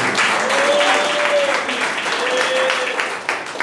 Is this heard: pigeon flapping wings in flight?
no